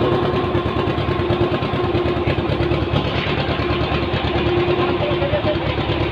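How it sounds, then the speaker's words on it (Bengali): A motor boat's engine chugs steadily at close range as it pulls up at a ghat on the Ganges, a loud continuous rhythmic drone with no talk over it. "দেখতে পাচ্ছ নৌকা লেগে গেল ঘাটে।"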